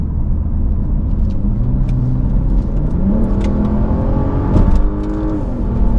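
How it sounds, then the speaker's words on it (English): A 2015 Volvo S80 T6 Platinum with its turbocharged six accelerates from inside the cabin, a loud steady engine drone climbing in pitch through the gears, with no talk. "Giving it some gas, the acceleration is quite instant, and this turbo really doesn't have much sign of lag at all."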